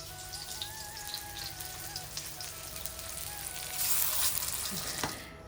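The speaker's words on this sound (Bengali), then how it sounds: "তো এরকম সুন্দর করে আমি মোচাগুলোকে বড়া করে নিচ্ছি" Banana flower fritters sizzle in hot oil, a soft crackling hiss with scattered pops that swells louder near the end, while a faint tonal sound wavers in the background.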